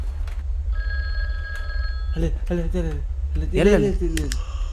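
An old telephone rings in The Guest horror video game, a repeated electronic trill in short bursts over a low steady hum, with people talking loudly over parts of it.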